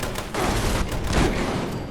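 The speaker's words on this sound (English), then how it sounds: "Maybe there is merit to using the quad Tesla rifle" A quad Tesla rifle firing in Fallout 76, loud crackling electric bursts in a rapid cluster, close and dense with no talk.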